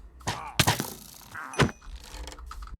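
A stone sword striking a pillager in a blocky survival game: a few sharp, close thunks and hit sounds in quick succession, followed by a brief mob grunt, with no talking.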